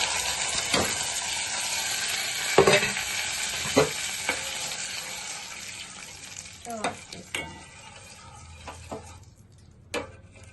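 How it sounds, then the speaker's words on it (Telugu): Yogurt poured into a sizzling tempering of cumin, mustard seeds and chillies: dense sizzling in a pan with spoon taps and scraping, gradually quieting down into softer, scattered crackles and clinks. "తాలింపు వేగాక మనం కలుపుకున్న పెరుగుని తాలింపులో వేసుకుందాం"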